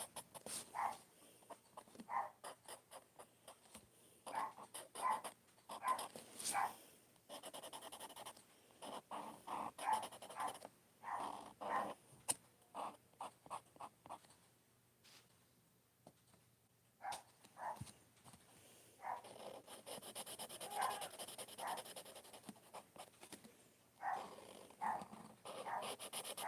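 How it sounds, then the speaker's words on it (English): Dogs in a room make a long stretch of scuffling, panting and low growling with scattered short yelps, rising and falling in restless bursts at moderate distance. "I really am sorry for the dogs."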